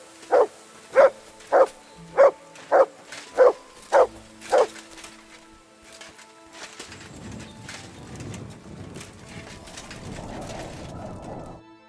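Mutt the dog in Kingdom Come: Deliverance 2 barks eight times in a quick, even series of close, clear barks, followed by quieter ambient rustling and background sound.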